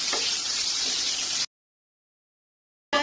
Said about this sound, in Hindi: अब इसमें ऐड कर देंगे प्याज, और प्याज को लाइट गोल्डन कर लेंगे